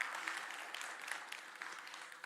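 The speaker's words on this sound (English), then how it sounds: "A huge round of applause, please." Conference audience applauding at a TiDB User Day event in India, a faint, steady wash of many hands clapping at some distance, sustained evenly throughout with no voices standing out.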